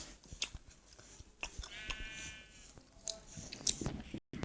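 A single wavering sheep bleat rises out of a quiet background scattered with clicks and rustling, moderately close.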